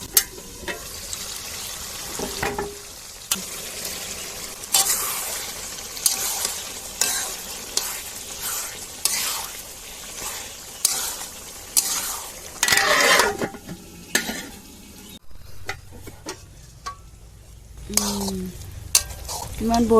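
Onions and chopped tomatoes frying in a pan for a chicken dish, with a continuous sizzle broken by repeated scraping stirs of a utensil against the pan, close and fairly loud.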